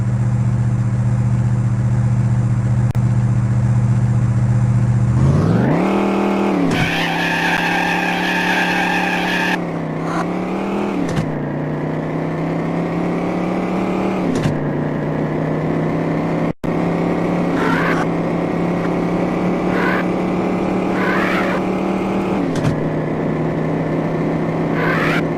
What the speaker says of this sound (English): every fucking car in this game has its own unique and quite realistic engine sounds